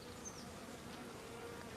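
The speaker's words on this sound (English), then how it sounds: "If you listen, you can hear the buzzing as they're converting some of that nectar into honey." Bees hum steadily at a farm while making honey from early-season blossom nectar, a faint, continuous drone with no voices.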